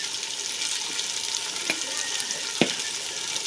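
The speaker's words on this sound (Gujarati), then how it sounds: "તો હવે આપણે મસાલા નાખી દીધા છે અને મિક્સ કરી લઈએ" Red chili powder, turmeric and coriander-cumin powder sizzle in hot oil for a dal tadka, a steady frying hiss broken by two sharp scrapes of a spoon stirring the pan.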